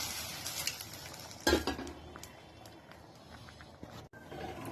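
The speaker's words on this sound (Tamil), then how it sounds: "தாளிச்சதை கீரையில் சேர்த்துட்டு நல்லா கிளறி விடுங்க" Soft scraping and stirring of tempered spinach in a cooking pot, with one louder metallic clank partway through and quiet rustling afterward.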